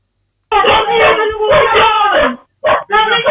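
A dog barks and howls in a long, wavering run of loud calls up close, then breaks off briefly before two shorter yelps.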